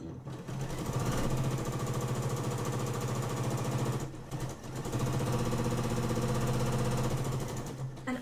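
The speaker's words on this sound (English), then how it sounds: "let's jump over to the sewing machine and let's get them sewn up" A sewing machine chain pieces quilt block squares, running in two long steady bursts of dense, even stitching with a short pause between, close and loud with no talk.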